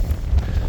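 A brief, loud gust of wind buffets the microphone with low rumbling thumps, high in the Rocky Mountain wilderness.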